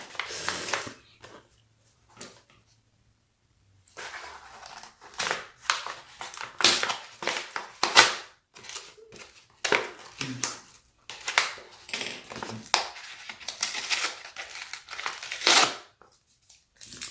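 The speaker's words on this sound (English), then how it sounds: "let's go ahead and unbox this" Plastic and cardboard packaging for an iPhone 7 replacement glass LCD screen digitizer being opened, with bursts of crinkling, tearing and crushing that come in irregular clusters up close after a brief quiet stretch.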